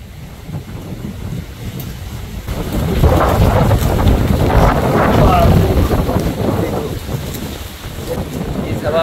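Strong gusting wind blows outdoors ahead of rain at a home bird aviary, roaring and buffeting the microphone steadily and building louder midway before easing slightly.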